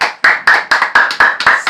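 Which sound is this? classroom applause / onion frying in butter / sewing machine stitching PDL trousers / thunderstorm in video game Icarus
classroom applause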